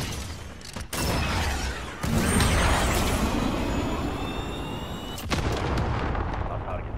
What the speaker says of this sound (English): May need to change the tide here with that cruise missile,